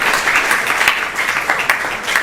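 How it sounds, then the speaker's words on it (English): An audience gives a round of applause after a yagya ceremony at a temple gathering: dense, steady clapping from many hands that holds at a loud level throughout, without speech over it. "Please give them a big round of applause."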